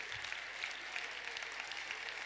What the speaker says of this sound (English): Everybody please come up with a big round of applause.